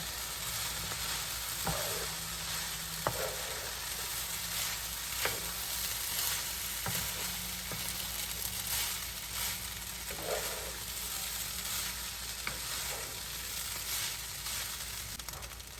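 Fried rice stirred in a frying pan after soy sauce is added, a constant close sizzle broken by scraping strokes of the spatula at irregular intervals.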